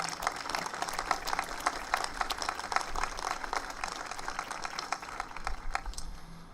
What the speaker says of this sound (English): asking for another round of applause for Rolling Thunder, for the Color Guard